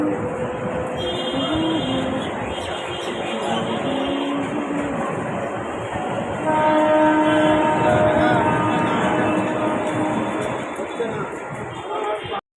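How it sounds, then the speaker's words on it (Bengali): A train pulls out of the crowded Bidhannagar station in Kolkata with a continuous, fairly loud rumble and some faint tonal whine layered on top, fading out at the very end. "এদিক দিয়ে স্টেশন, ট্রেন বেরিয়ে যাচ্ছে।"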